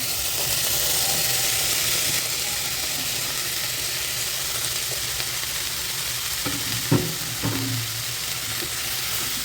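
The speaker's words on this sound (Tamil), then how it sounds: "நல்லா எண்ணெயிலே இது மாதிரி வதக்கி விட்ருங்க" Ridge gourd sautéing in oil in a pan with tomato, onion and green chillies, a dense continuous sizzle with a few stirring scrapes near the end, close and steady.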